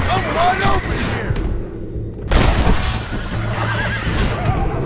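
A horse in the Western video game Red Dead Redemption lets out loud neighs and whinnies amid clip-clopping hooves, with a heavy thump midway and game dialogue and voices around the calls.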